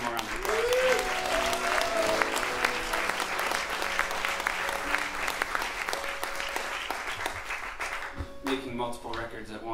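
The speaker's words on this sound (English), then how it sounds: "Please give him one more round of applause." Concert audience applause for a folk band, a thick, sustained roar of clapping from a crowd, with some whooping and murmured voices mixed in, continuing strongly for the whole stretch.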